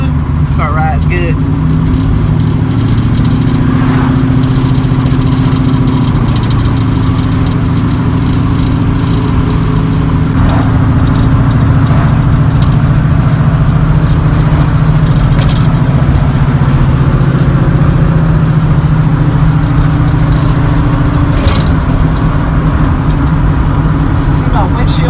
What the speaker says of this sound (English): When everything is working like it's supposed to, the car rides good.